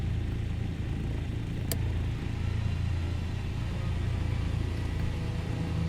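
Steady low piston rumble of a DC-3 "Daisy" (SE-CFP) starboard radial engine running, heard from inside the aircraft as a continuous loud drone with a brief click partway through.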